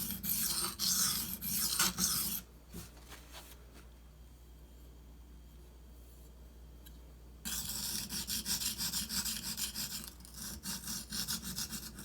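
A Benchmade Anthem knife edge scraped across a Shapton Pro sharpening stone to cut away a heavy burr, a loud steady rasping stroke that pauses into near quiet midway, then resumes with repeated rubbing passes.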